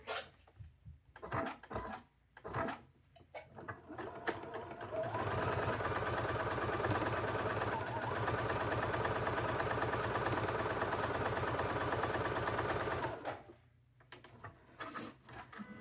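A sewing machine joins small fabric pieces of a patchwork farm chicken, humming steadily at close range for about eight seconds. Quieter handling clicks and rustles come before and after the run.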